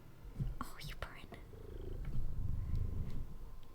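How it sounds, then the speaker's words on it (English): A pet cat's low, steady purring rumbles close by, continuing under soft whispered speech and a few light handling noises. "Could you hear him purring?"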